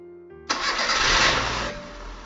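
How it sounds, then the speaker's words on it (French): A GTi car engine is started after an oil and fuel filter service: a short starter crank bursts into a loud, close engine catch that settles into a steady running idle, with no voices. "Je vais maintenant démarrer le véhicule"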